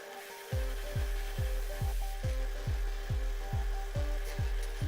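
A steady series of about nine rhythmic rasping strokes, close and evenly paced, as the cut edge of a glass bottle is sanded back and forth.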